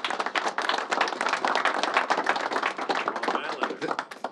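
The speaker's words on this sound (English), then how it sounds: "Let's give him a big round of applause." Applause for the commissioner at a press event with Governor Cuomo about the Islanders' return to Long Island: sustained, fairly quiet clapping from a modest crowd, sharp individual claps audible, with no clear talk over it.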